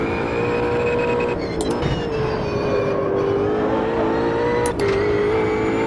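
Race car engine in Automobilista 2 holding a steady, droning tone with shifting pitch as the car brakes and turns through a corner, loud and continuous, with faint talk underneath.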